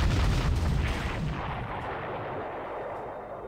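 A heavy artillery blast from Panzer Corps, the World War II strategy game, booms loudly at the start as shells hit an anti-tank cannon, then rumbles and decays into a long fading roar.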